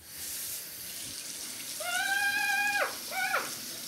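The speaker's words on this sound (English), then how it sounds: "I'm going to go and wash my hands now." Water runs steadily from a tap into a sink during handwashing, a soft continuous splash in the background, joined midway by a brief squeaky tonal whine that repeats twice, fairly quiet and with no voices.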